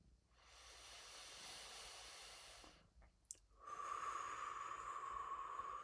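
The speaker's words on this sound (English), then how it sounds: "One more big breath" One long, deep breath is drawn in, softly hissing and swelling before fading away. A brief pause and a small click follow, then a slow, airy exhale with a faint whistling edge that runs to the end.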